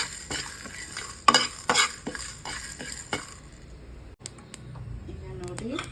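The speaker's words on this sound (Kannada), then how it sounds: "ಬಿಸಿ ಆದಮೇಲೆ ಇದೆಲ್ಲನೂ ಡ್ರೈ ರೋಸ್ಟ್ ಮಾಡ್ಕೊಳ್ಳೋಣ" Whole spices dry roasting in a hot pan, stirred with a metal spoon that taps and scrapes against the pan in quick irregular strokes, while a faint sizzle runs underneath and then quiets toward the end.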